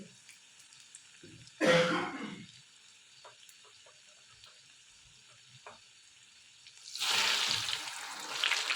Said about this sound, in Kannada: ಯಾಕಂದರೆ ಎಣ್ಣೆ ಕಾದಿರುತ್ತೆ ಅಲ್ವಾ, ಅದಕ್ಕೆ ಆಲ್ರೆಡಿ ಬೇಗ ಫ್ರೈ ಆಗಿಬಿಡುತ್ತೆ